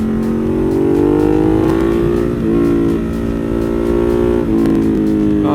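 A Ducati Monster 1200 motorcycle fitted with new rear sets being ridden, its engine droning loudly and steadily close by with rising revs and shifts between gears.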